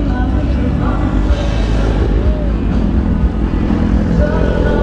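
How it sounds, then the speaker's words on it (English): Motorcycles, sport bikes such as a Kawasaki 636 and a Hayabusa, idle and rumble as riders pull up at an evening bike night, a steady loud engine drone with people talking over it. "We got some of the boys pulling up, it looks like."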